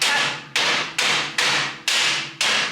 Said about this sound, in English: he's hammering while I'm trying to vlog